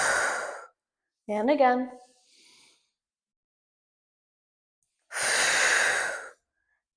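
Two strong, breathy exhales during a yoga twist, close to the mic, separated by a long quiet gap and a short spoken cue.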